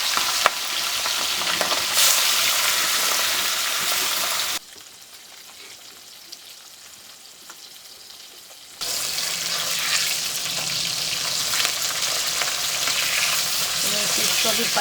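Fish frying in a kadhai on the stove, a loud continuous close-up sizzle that drops to a quieter hiss for a few seconds in the middle, then returns just as strongly.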